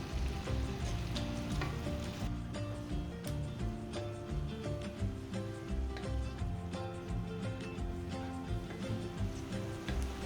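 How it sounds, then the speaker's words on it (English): Ground beef sizzles steadily in a hot pan as it is broken up into small crumbles, a dense continuous frying hiss with light scraping and clinking throughout, no voices. "We're going to be breaking up the beef in the pan until it's in fairly small crumbles and it's cooked all the way through."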